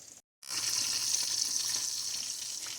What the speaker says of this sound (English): And then we're going to let them fry on both sides until completely done.